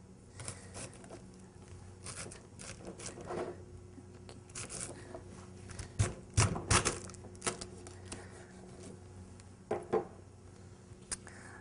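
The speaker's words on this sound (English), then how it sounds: "it's very important that the cabbage is cut nice and thinly, and this is how you do it" Knife thinly slicing cabbage for borscht on a cutting board, a series of crisp irregular chops and crunches, louder bursts in the middle, heard close with no talking.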